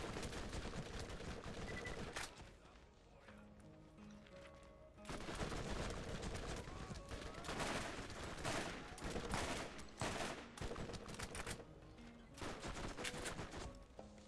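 Gunfire in Borderlands rattles in rapid bursts and dense volleys with sharp individual shots, loud and close, pausing briefly before heavier sustained firing resumes.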